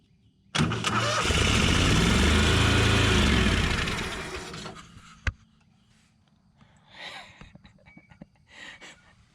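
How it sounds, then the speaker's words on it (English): Engine cranks and fires from ignition wiring in a small shop, bursting abruptly into a loud roar that runs a few seconds before dying away, followed by faint clicks and rustling. "As soon as I touch this in there, it cranks and fires."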